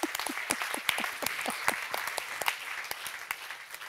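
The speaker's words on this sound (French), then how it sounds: "Merci de les applaudir." Audience applause at an advertising awards show, a lively burst of many hands clapping with sharp individual claps standing out, close and steady throughout.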